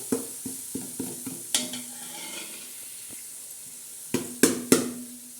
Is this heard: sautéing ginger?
yes